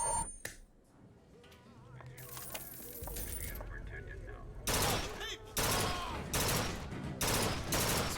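A burst gun firing in a video game, heard as several loud, short, clipped bursts spaced about a second apart, following quieter game sounds and a voice.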